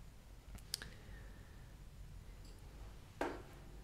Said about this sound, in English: Now you will click on it.